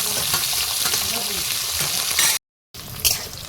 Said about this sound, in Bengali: এর মধ্যে গোটা গরম মশলা গোটা জিরে আর গোটা গোলমরিচ সব গোটা মশলাগুলো এর মধ্যে দিয়ে দেবো একটু ভেজে নিয়ে